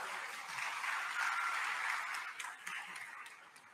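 A church congregation applauds in welcome for two nuns, a soft, distant wash of steady clapping that swells slightly and then gradually eases off.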